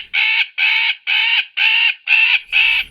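Magpie alarm call: six loud, harsh rattling chatters in an even rhythm, each about a third of a second long and close by, with no other sound between them.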